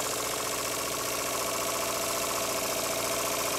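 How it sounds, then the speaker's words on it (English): A Bowman-Bryant BM valveless marine steam engine runs nearby with a steady, fast, even chuffing rhythm and a dense hiss layered over it, continuous and unbroken with no voices. "It's the Bowman-Bryant BM valveless engine"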